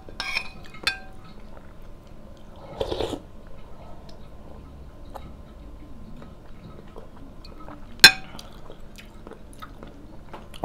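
Spoon clinking against dishes during a meal of spaghetti with chicken, a few sharp close clinks scattered among soft chewing and handling noises in a quiet room, with one louder clink near the end.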